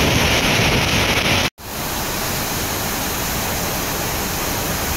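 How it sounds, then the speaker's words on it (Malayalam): Monkey Falls in Nelliyampathi, swollen after rain, roars as a dense continuous rush of water, loud and close, with a brief dropout partway through. "അടിപൊളി നല്ല മഴ നല്ല വെള്ളച്ചാട്ടം"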